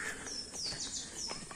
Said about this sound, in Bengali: দেখেন কত সুন্দর কোকিল ডাকে